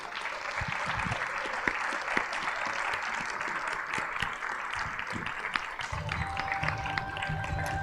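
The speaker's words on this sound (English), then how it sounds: "Can you all please help me join in a massive round of applause for all our panelists tonight?" A large audience at a youth summit talk show on digital transformation gives the panelists a sustained round of applause, steady and full throughout, with scattered louder claps near the end.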